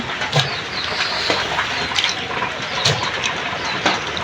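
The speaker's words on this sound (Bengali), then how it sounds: "যে আমার কাটা শেষ এখন ধুয়ে ভালো করে" Cut small local fish, flat beans and potatoes being washed in water in a village kitchen, with steady splashing and sloshing and a few sharper drips and knocks throughout, near and fairly loud.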